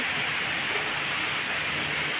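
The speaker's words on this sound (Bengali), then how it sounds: "দেখো গাড়ি ঘোড়া পর্যন্ত মানে দেখা যাচ্ছে না ভালো করে, এতটা বৃষ্টি" Heavy rain roars in a dense, unbroken hiss, loud and constant throughout with no pauses.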